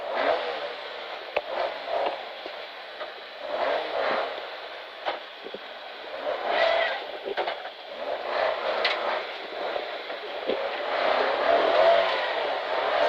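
A rally car runs a forest stage of the Alpine Rally of East Gippsland, engine rising and falling through gear changes with gravel clatter and rattles, heard steadily from inside over thirteen seconds.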